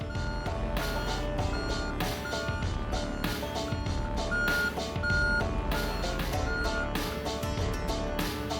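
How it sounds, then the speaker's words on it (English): Steady, repeating reversing beeps ring out over diesel engine rumble as a crane works at an outdoor gold-mining site, the alarm pulsing at an even rhythm throughout with no talk. "Crane's in action."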